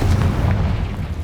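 A Confringo blasting spell explodes in Hogwarts Legacy as a heavy, booming rumble. The blast is loud and close, with deep low-end energy sustained through the short moment.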